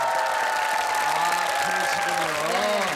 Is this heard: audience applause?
yes